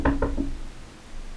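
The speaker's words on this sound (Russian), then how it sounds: "нужно постучаться в дверь" Two quick knocks land on a wooden door in a forest house, close and fairly loud, then quiet room tone follows.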